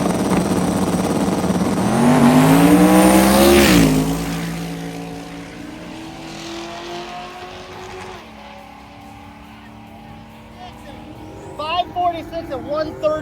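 A hearse drag car launches down a drag strip with a loud engine roar that climbs sharply in pitch, peaks, then recedes into the distance, with voices around it.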